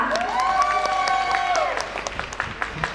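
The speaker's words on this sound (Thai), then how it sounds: "ขอเสียงปรบมือดังๆให้กับทีมนี้อีกสักครั้งหนึ่งครับ" An audience claps for a team at a Thai sales-center event, a steady wash of applause that fades toward the end while a host speaks over it with a rising, drawn-out voice.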